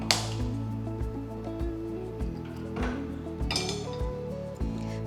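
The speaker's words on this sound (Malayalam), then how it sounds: "അതിനായിട്ട് ഒരു പാൻ വെക്കാം." A pan is set on the stove for cooking carrots, with a series of metallic clinks and knocks scattered through the moment at close range.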